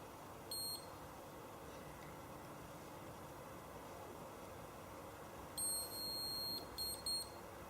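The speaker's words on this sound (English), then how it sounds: "That final beep just indicates that my 2 minutes are now up" A galvanic facial spa device gives a few short electronic timer beeps, one brief one early on and a faint cluster of repeated beeps near the end, over a quiet room background.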